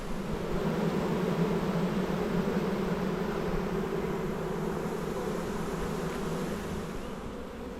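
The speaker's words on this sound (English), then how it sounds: "that is a full box of bees" A freshly hived swarm of honey bees fills a full hive box with a thick, even buzzing hum at dusk, steady and close, fading slightly toward the end with no talking.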